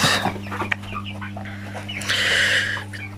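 Broiler chickens cluck repeatedly and fairly close, with short bursts over a steady low electrical hum, and no talking.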